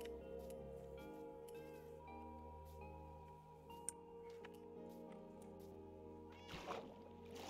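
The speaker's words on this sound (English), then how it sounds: "Ooh, so many cats I have" Cats meowing in Minecraft, the video game, sound very faintly, several short meows scattered over a constant low tonal hum and soft background clutter, with a brief click near the middle.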